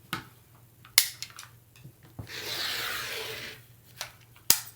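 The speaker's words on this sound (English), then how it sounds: "So I'm going to lay the ruler right on that line and trim that selvage away." A rotary cutter slices the selvage off quilting fabric along a ruler laid on a cutting mat: a short, steady rasping swipe of about a second, framed by a few sharp clicks and taps of handling.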